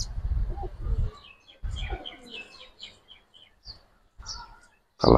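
Domestic pigeons of an old Giribaz breed, Silver and Beji, give low soft coos and a few chirps at a market, close by, with people talking in between and a loud burst at the end.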